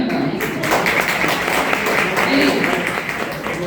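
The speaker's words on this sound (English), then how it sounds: "Again, big round of applause." An audience at a school education curriculum workshop claps together in a steady, dense wash of applause that lasts a few seconds, with some voices mixed in.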